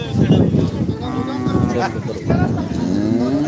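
A buffalo calf at a busy Punjabi livestock market moos loudly in drawn-out calls over a continuous din of crowd voices, with people talking throughout.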